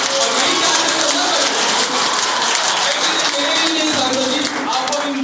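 A crowd at a political rally in Jaunpur claps steadily and loudly, the dense applause sustained for several seconds with a voice talking over it.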